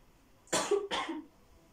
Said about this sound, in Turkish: Eğer öksürüyorsam ve sesi irite ediyorsa şimdiden özür dilerim